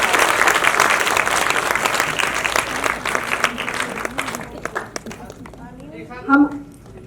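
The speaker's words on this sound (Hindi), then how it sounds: "जोरदार तालियां बजा दीजिए मुख्य अतिथियों के लिए।" An audience applauds the chief guests at a Geeta Charitable Foundation NGO event where computers and sewing machines are handed out to people in need. The dense, loud clapping thins out over about four seconds, and then a voice is heard briefly.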